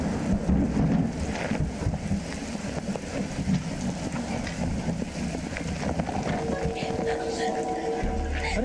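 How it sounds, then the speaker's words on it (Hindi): Steady rain with thunder rumbling in a Hindi TV crime drama scene, a broad continuous wash of noise with low rolls, while people talk over it. "अरे उषा जी आप बारिश छतरी के नीचे आ जाइए"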